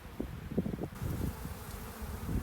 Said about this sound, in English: We're doing some bee removals.